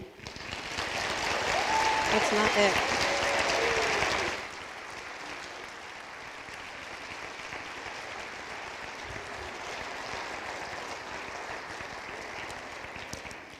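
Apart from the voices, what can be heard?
audience applauding new Honor Society members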